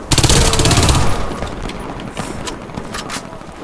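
Rapid automatic gunfire rattles in the Warface video game, a dense burst at the start that fades into scattered, quieter shots and clatter.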